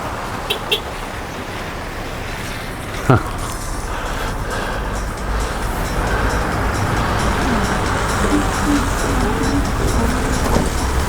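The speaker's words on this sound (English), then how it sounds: "Here's my bus." Free shuttle bus (navette) pulling up at the Les Orres ski resort, a steady engine rumble that swells and stays loud close by, with a brief sharp knock near the start of its approach.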